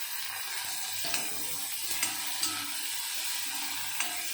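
Onion, green chillies and tomato sauté in a pan for a chickpea gravy, giving a steady broadband sizzle with a few sharp utensil scrapes and taps as the mix is stirred, close and continuous, with no talking.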